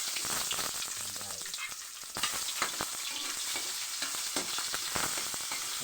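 Onion and pork sautéing in a pan for pork sinigang, a steady close sizzle with intermittent stirring clatters and scrapes, no talking.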